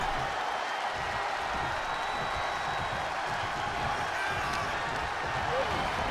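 Steady roar of a wrestling arena crowd in the WWE 2K23 video game, a dense wash of cheering that holds at an even level throughout, heard fairly faint.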